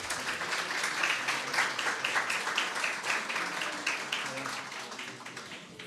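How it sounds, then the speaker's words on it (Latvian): A conference audience applauds steadily throughout, a dense field of many hands clapping at moderate distance, with no talk over it. "Es domāju, uztaisam aplausus."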